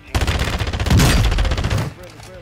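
Rapid gunfire from the video game Modern Warfare II DMZ, a loud, dense burst of shots lasting about two seconds, close and punchy, then cutting off abruptly.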